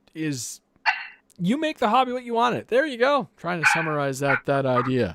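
A pet dog barks and yips repeatedly nearby, the sharp calls overlapping someone talking in a home podcast setting.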